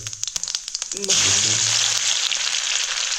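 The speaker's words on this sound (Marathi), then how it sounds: "जिरे टाकलं जिरं टाकलं" Cumin seeds hit hot oil in a pan and burst into a loud, steady sizzle after a second of quiet tapping, the frying hiss carrying on strongly to the end with no talk.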